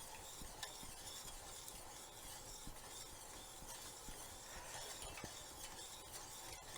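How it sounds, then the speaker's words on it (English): Butter is stirred into hollandaise sauce in a pan over low heat, a soft, continuous scraping and stirring with a faint sizzle throughout and no talking. "we'll just stir over a low heat here"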